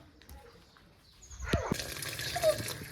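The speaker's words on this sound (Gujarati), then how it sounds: "જો આયુષભાઈ બે ગયા છે નાવા" Tap water runs as a small child is bathed under the faucet at home, starting quietly, then gushing and splashing closer and louder partway through.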